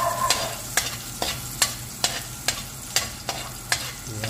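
Garlic and ginger sizzle in a hot pan while a utensil scrapes through them in regular strokes, about eight sharp stirring clicks over a soft continuous fry, close and fairly quiet.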